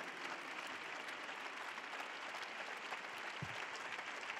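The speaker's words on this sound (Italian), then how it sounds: "Bravi, meritano un applauso." A large crowd at an open-air Mass for young people in St. Peter's Square applauds, producing a steady, dense wash of clapping heard from a distance.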